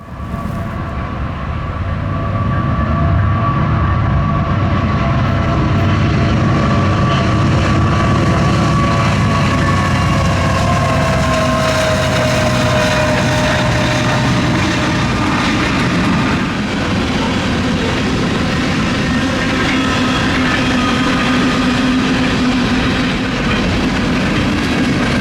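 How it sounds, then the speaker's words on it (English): A CPKC freight train led by a CP AC44 rebuild locomotive with a KCS unit trailing second rolls past, a loud, sustained rumble of engines and rolling wagons that holds for the full stretch, with no voices. "It's CPKC 231, with a CP AC44 rebuild leading and a glorious KCS Ace trailing second."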